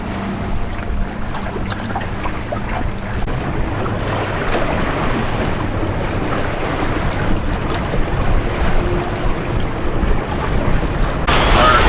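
A sailboat heeling in building wind off a lakeshore harbor entrance near a power station, with waves splashing against the hull and loud gusts buffeting the microphone throughout.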